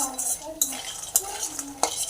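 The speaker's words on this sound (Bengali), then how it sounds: "এই যে বড়িগুলো এখানে যতক্ষণ না লাল লাল হবে ততক্ষণ ভাজতে হবে।" Small bori lentil dumplings fry in a pan for Bengali shukto while a spoon scrapes and clinks against the metal every half second or so over a soft sizzle, close by with no talk.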